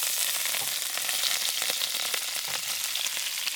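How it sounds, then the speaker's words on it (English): Half a pound of white shrimp frying in a little oil in a pan for a stir fry, giving a steady, close, dense sizzle with soft crackles and pops throughout, no talking. "We have to fry up the shrimp first."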